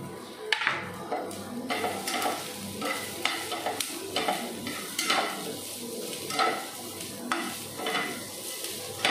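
Chopped carrot, green chilli, capsicum and beans stir-fried in a pan for oats upma: a steady sizzle under repeated rhythmic scrapes and clinks of a spoon against the pan, close and clear, no speech.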